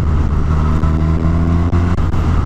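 Engine of a 2019 Suzuki Katana motorcycle pulling steadily under acceleration, a loud, continuous throaty drone with layered harmonics that holds close and even for the whole stretch.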